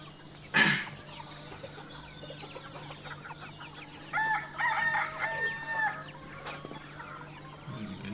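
Native village chickens and roosters at a small home poultry farm, with a loud close cluck or squawk early on followed by a rooster crowing in drawn-out calls, over a faint steady background hum.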